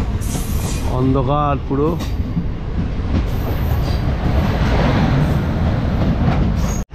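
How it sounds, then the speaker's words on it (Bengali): Siliguri Junction to Haldibari DEMU train running at night, a loud steady rumble of wheels and diesel multiple unit engine filling the whole stretch, with a person speaking briefly near the start. "এটা হচ্ছে Siliguri junction two Haldibari DEMU train."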